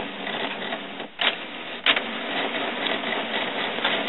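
A Canon Pixma MG5420 inkjet printer runs through its setup cycle, priming the printhead: a steady close mechanical whir and hum throughout, broken by two short clunks partway through.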